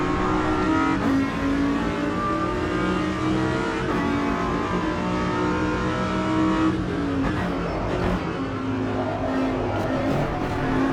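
A race car engine in the Automobilista 2 sim at Road Atlanta drones loudly and continuously, pitch rising and falling through gear changes and corners, with a brief tire scrub near the end.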